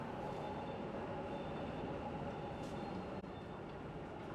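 A low, steady rumble of train noise fills a large, multi-level enclosed metro station in Bengaluru, continuous and fairly quiet, with a brief clatter near the end.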